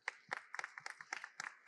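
An audience at the opening of an international environmental education meeting gives a round of applause honoring a university professor: a sparse, fairly rhythmic series of individual sharp claps, quiet and somewhat distant.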